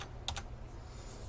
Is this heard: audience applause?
no